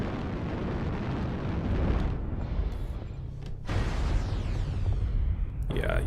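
Airstrike explosions in the mech combat game Mechwarrior Online, a long sustained rumbling blast with heavy low-end roar, broken by a brief drop and renewed booming, with speech faintly present.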